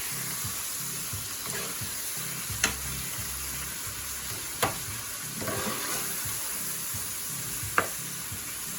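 Cabbage and salt fish frying in a pot, a steady close sizzle with occasional sharp clinks of a utensil against the pot and some stirring scrapes, no one talking.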